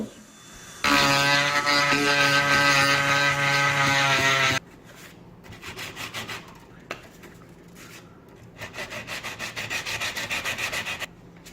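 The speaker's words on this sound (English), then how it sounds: "400 grit sandpaper" Sandpaper of 400 grit rubbing back and forth over a mandolin fretboard in rhythmic strokes, close and fairly loud, after a burst of loud music at the start.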